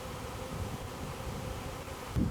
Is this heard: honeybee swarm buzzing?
yes